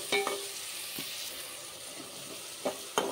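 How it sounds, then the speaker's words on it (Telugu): Onion and tomato pieces frying in a pan for a dal curry, with a steady soft sizzle and a few clinks of stirring, near and quiet. "బాగా ఫ్రై అయిపోయినాయండి ఉల్లిపాయ ముక్కలు, టమాటా ముక్కలు."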